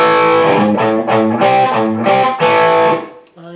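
Slow distorted electric guitar lick, several sustained, evenly spaced chordal notes ringing loud and close with a short pause near the end.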